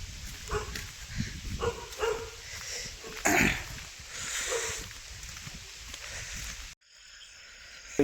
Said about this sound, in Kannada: ನೋಡಿ ನಾಯಿ ಬಗಳ್ತೈತೆ